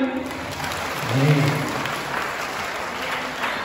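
A crowd of school students and parents claps steadily and continuously, a dense wash of applause with a brief swell near the middle.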